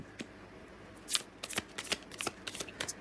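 Tarot cards are handled and laid out one by one during a fortune reading, giving a series of crisp, close paper slaps and flicks that grow busier toward the end.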